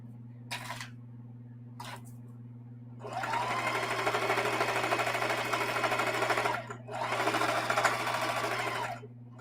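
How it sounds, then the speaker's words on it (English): A sewing machine runs in rapid steady stitching bursts while edges of a scrap strip quilt are sewn down, two long loud runs after brief short starts, close and alone with no talk. "I'm just sewing the edge down."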